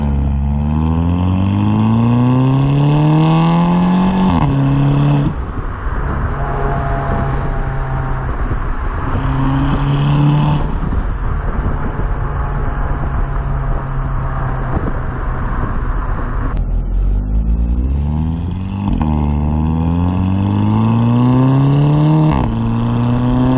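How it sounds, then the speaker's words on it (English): A VW MK6 GTI turbo engine, fitted with a CTS Turbo intake and an ARM Motorsports downpipe, pulls hard through several gears. Loud rising engine tones are broken by shift dips, with turbo whoosh and wind noise up close inside the moving car. "You can hear the turbo way more"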